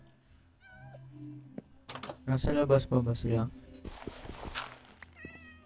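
Several high, wavering cat meows from a Minecraft game rise early and again near the end, interleaved with close, loud talk by a player and bursts of game noise.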